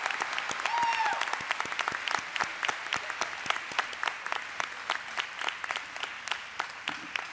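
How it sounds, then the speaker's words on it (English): Applause from a college graduation ceremony audience honoring early childhood graduates, a steady rolling patter of many hands at moderate distance lasting throughout, gradually thinning toward the end. "Give them a round of applause."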